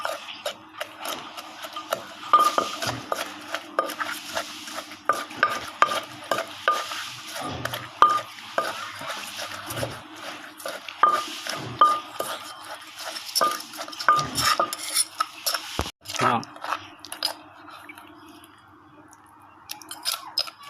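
Lao papaya salad being mixed in a mortar with fish sauce and seasonings, a long run of irregular clacks, knocks and scraping stirs, fairly close, with occasional sharper pounding hits and no talk.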